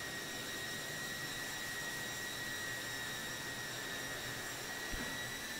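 Steady, broad jet engine roar of an A300-600R airliner in a flight simulator, a continuous even whoosh with a faint high whine riding on top, unbroken and without speech.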